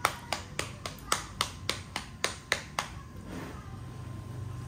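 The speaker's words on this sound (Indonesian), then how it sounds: "Tepuk tangan dong, Ki." A child claps hands at a family lunch, about ten evenly spaced sharp claps close by that then stop, leaving low room noise.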